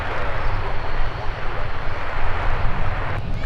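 A jet airliner takes off from Minneapolis airport, its engine roar a broad, steady rumble heard from a distance, with a tower radio voice talking over it.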